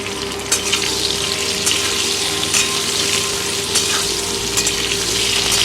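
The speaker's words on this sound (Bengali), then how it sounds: "আলু কুমড়ো ভালো করে ভাজা হয়ে গেছে" Potato and pumpkin pieces fry in hot oil in a pan, a loud, steady close sizzle with crackling bursts and occasional stirring scrapes throughout, no voices.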